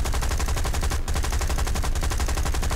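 Anti-aircraft gun in War Thunder firing a rapid, unbroken burst of shots at an even rhythm, loud and close, with a tiny pause midway before the stream of fire resumes.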